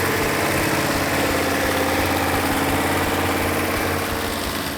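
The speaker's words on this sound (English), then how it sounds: "Everybody involved in bringing this engine back to life, the Phoenix Cuda engine, did a fantastic job." A rebuilt Hemi Cuda V8 engine idles loud and close, with a deep, steady, slightly lumpy rumble and throbbing exhaust pulses, holding even throughout.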